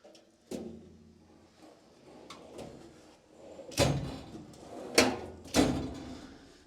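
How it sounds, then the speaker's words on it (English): Snap-on toolbox drawer sliding open and shut on stiff, gunked-up slides, giving several close, loud thumps and clacks with softer rolling scrapes between them. "That drawer doesn't want to come all the way out."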